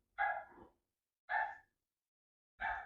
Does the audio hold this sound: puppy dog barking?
yes